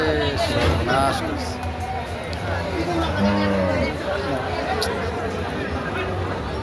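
Cattle moo loudly several times amid a busy crowd, with people chattering and calling in the background of a bustling outdoor cattle market with muddy ground.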